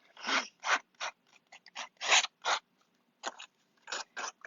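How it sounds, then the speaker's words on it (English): Scissors scrape repeatedly against a stiff cardstock edge, roughing it up, in short, rough rasping strokes, some quick and some longer, close up with no talking. "I'm just going to take the edge and kind of rough it up with my scissors"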